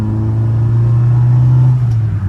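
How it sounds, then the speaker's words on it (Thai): Loud exhaust note of a rusty Nissan Sunny B11 while driving, a deep steady droning rumble with strong low harmonics held throughout, close and dominant with no talking. "เสียงท่อ ดังมากนะครับ ชาวบ้านด่าแน่นอนครับ ถ้าขับเร็ว ๆครับ"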